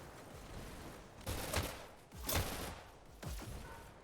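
Insta-gib and SMG fire in the VR shooter Hyper Dash, three separate short bursts of shots spaced about a second apart, moderately loud.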